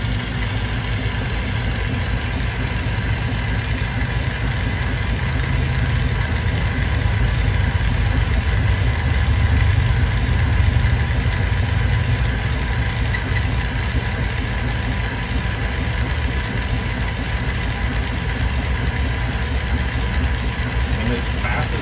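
A laser machine engraving wooden bead looms gives off a steady mechanical hum and vibration that runs throughout, close by, with someone talking over it.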